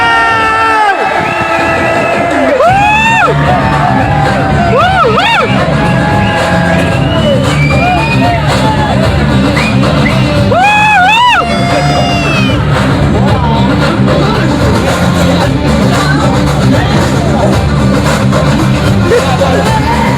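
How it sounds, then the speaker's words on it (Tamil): Fans packed into a cinema theatre during a Thalapathy film screening shouting, whooping and cheering loudly and continuously, with rising yells and piercing whistles breaking through the roar of the crowd. "படம் ஓப்பனிங்ல இருந்து எண்டு வரைக்கும் ஒரே கத்து கதறல் கூச்சல் கொண்டாட்டங்க"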